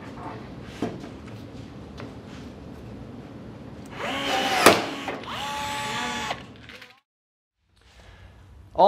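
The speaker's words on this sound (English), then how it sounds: "Almost done riveting the wings." Rivets are set in the aluminium wing of a RANS S-21 kit aircraft during the build, bursts of pneumatic rivet-tool noise with a louder stretch midway, then a short pause and a final burst.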